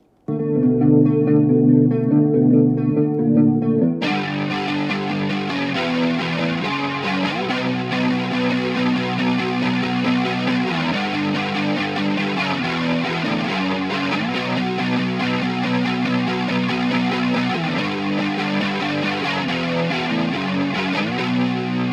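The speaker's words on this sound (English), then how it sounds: "let's listen from where it transitions into the distortion parts" Sustained, heavily distorted electric guitar plays a thick, continuous riff after a cleaner opening passage, loud and full throughout with no voices, recorded with an Austrian Audio OC818 microphone.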